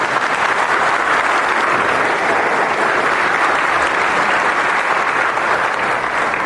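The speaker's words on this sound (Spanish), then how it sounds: "Vamos a darle un aplauso fuerte a la palabra de Dios." A church congregation claps loudly after a Bible reading during a Spanish-language service. The sustained, thick applause holds at a constant strong level throughout and carries no speech.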